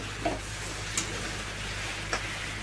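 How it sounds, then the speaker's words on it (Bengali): Potatoes and pointed gourd frying in spices, a steady low sizzle running throughout with a few brief stirring clinks, close by and fairly quiet, no talking. "আলু পটলগুলো ভালো করে কষিয়ে নিচ্ছি মশলা দিয়ে"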